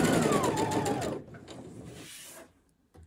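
A sewing machine stitches two layers of fabric for a men's boxer short, a fast, close, rhythmic mechanical whir for about a second before easing into softer motor hum and a short final burst.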